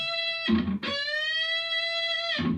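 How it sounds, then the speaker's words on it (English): A distorted electric guitar note from a Persona 5 song is struck twice, then bent gradually upward a half step in pitch and held with steady sustain, loud and close. "you're going to want to bend up another half step"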